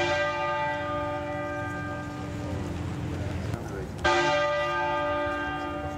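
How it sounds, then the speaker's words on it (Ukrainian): Westminster Abbey's bell tolls for the Queen's funeral, its deep ringing note sustained with long humming overtones, decaying and then struck again near the end, fairly close and clear. "Дзвін Вестмінстерського аббатства лунає щохвилини, аби відзначити кожен видатний рік життя її величності."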